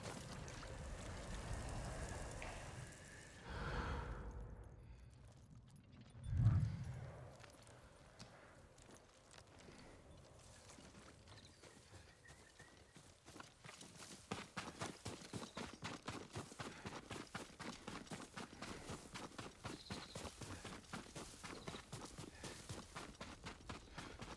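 Horse hooves clip-clop in a steady, fast rhythm in the Ghost of Tsushima video game on PC, building after a brief rumble and continuing through the latter half over quiet wind-like ambience.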